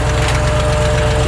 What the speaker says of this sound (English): It's got a nasty tendency to keep dieseling. It just wants to run and run and run.